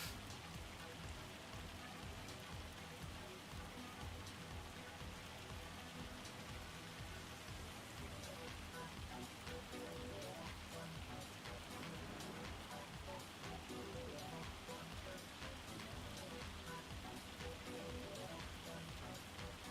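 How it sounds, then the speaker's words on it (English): Hail falls in the farming game Farming Simulator 25 as a constant, dense patter that stays even and moderately loud for the whole stretch, with no break. "You can stop hailing now."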